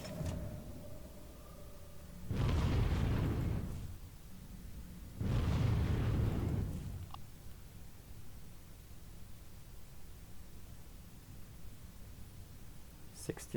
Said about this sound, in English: EMP missile.